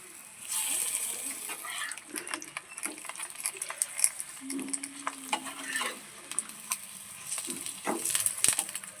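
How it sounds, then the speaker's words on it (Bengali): Soybean omelettes fry in hot oil in a frying pan, giving a steady crackling sizzle with scattered pops and scraping stirs throughout, moderately close and without talk. "এবার একটা ফ্রাই প্যান বসিয়ে দিয়েছি তেল দিয়ে দেবো অমলেটগুলোকে ভাজার জন্য"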